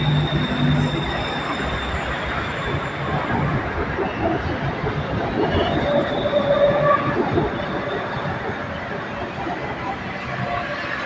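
BTS Skytrain Silom line train at Saphan Taksin station, platform 3: a steady rumble of a train moving along the elevated track, with wheel squeal and faint hisses, near and fairly loud.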